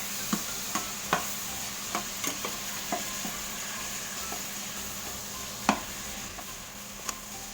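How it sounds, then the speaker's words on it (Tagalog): Ground beef giniling menudo stirred in a cooking pan: soft background sizzle with scattered clicks and scrapes of the utensil against the pan at irregular intervals, fairly quiet and without speech. "So, halu-haluin lang po natin."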